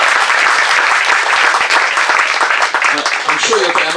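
Loud, dense audience applause at a Ghanaian food demonstration in the grounds of Blenheim Palace, a sustained wash of clapping with voices rising beneath it toward the end.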